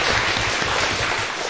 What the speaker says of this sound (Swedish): Nej, det måste jag applådera för.